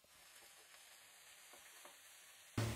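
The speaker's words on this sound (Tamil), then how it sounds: "கூடவே கருவேப்பிலை கொஞ்சம் சேர்த்துட்டு வதக்கிக்கலாம்." Sliced onion and curry leaves sauté in hot oil in a kadai for beetroot rice. A steady, moderate sizzle carries on throughout with faint stirring ticks, and a sudden louder scrape or clatter comes at the very end.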